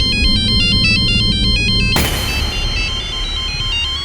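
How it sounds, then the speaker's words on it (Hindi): A mobile phone's loud electronic ringtone of rapid repeating beeps rings for about two seconds, then is abruptly cut off by a sudden dramatic burst of sound. "तुम्हारा फोन बज रहा है।"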